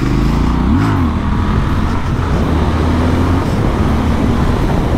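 A 1200 cc motorcycle engine pulls hard under acceleration, a loud continuous rumbling roar heard up close with rising and falling pitch throughout and no talking.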